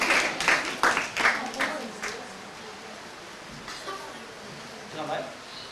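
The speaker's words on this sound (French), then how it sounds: "Applaudissez pour lui d'abord." A small group claps in a school classroom, with a quick burst of sharp claps in the first two seconds that quickly fades to quiet room noise.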